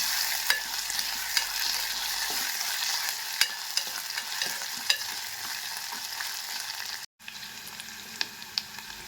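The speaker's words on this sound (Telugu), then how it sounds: "కట్ చేసి పెట్టుకున్న ఆనియన్స్ ముక్కలను కూడా వేసి ఇలా కలుపుకుంటూ కొద్దిసేపు మగ్గించుకోవాలి" Chopped onions frying with ginger garlic paste in a pan, giving a continuous close sizzle broken by scattered scraping and tapping strokes as they are stirred, with a brief dropout near the end and no speech.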